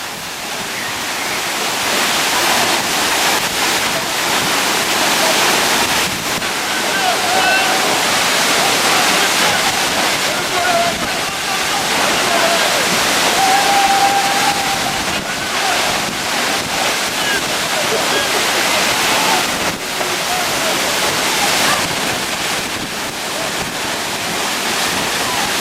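Water from Victoria Falls in Dominica crashes and splashes in a loud, continuous rush, with gusts of wind buffeting the microphone and faint voices now and then beneath it.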